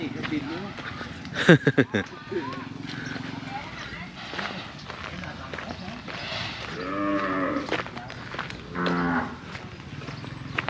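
Cattle moo repeatedly at an outdoor cattle and buffalo market in Wang Prachop, Tak, with several long lowing calls rising over a busy background, near and fairly loud, alongside hoof knocks and people talking.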